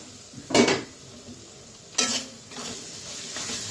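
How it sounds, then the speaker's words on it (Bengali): A lid is lifted off a cooking pot of small shrimp, giving two close metallic clanks about a second and a half apart, followed by a soft, faint sizzle. "ঢাকনাটা উঠিয়ে দিই।"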